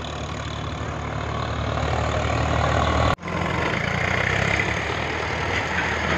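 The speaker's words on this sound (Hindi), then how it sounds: "750 पावरफुल ट्रैक्टर है भाई, बहुत लाजवाब ट्रैक्टर है" A 750 tractor engine drones steadily while running a soil loader machine that fills trolleys with earth, a loud, close, continuous rumble broken by one brief drop-out midway.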